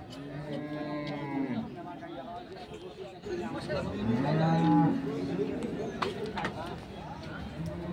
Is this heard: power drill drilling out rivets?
no